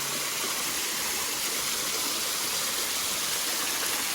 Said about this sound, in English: Well, I've reached Sweat Heifer Cascades, and I like them.